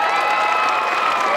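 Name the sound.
audience applauding and cheering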